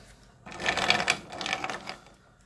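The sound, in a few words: bullets being mixed in coating as acetone dries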